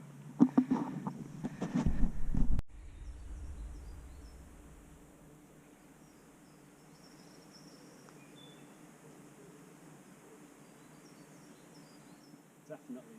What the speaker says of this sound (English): Definitely bees. Wow, I've never heard such noisy bees.